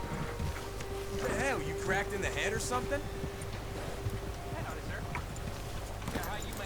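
Horse hooves from the video game Red Dead Redemption II, a rhythmic clip-clop running steadily through the clip under ambient game sounds and a few tonal effects.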